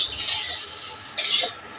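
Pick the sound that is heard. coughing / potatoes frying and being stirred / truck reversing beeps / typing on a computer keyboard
potatoes frying and being stirred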